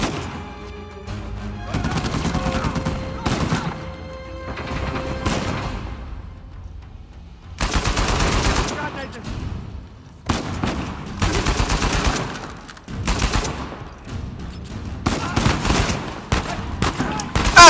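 Rapid bursts of gunfire in Uncharted 4, loud clusters of shots separated by brief lulls, with a player talking over the shooting.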